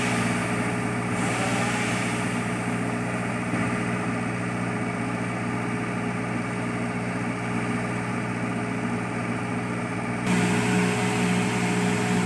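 A Tata Hitachi excavator engine runs steadily at a worksite, giving a continuous loud drone with a steady tone throughout and no talk.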